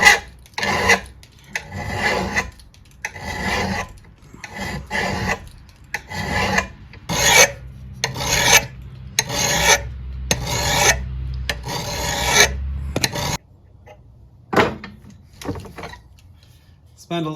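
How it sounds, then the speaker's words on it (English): A hand file rasps along an axe blade in a steady series of back-and-forth strokes, each a short scraping burst with brief gaps, fairly close and moderately loud, stopping near the end with a few isolated scrapes. "Spend a little bit of time sharpening your axe."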